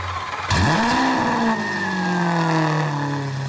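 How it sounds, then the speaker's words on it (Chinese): A Lamborghini SV, a limited-run supercar being restored with a repaired, damaged exhaust, fires up at first try, its engine catching with a sudden loud bark, revving up, then settling into a steady, fairly loud idle. "没想到一次就启动成功了"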